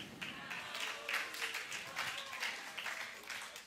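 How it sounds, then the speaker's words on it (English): Sparse, thin applause from an audience at a panel discussion, a scattered patter of a modest number of hands clapping, fairly faint and continuing for a few seconds. "That's like the weakest clap I ever heard in my life."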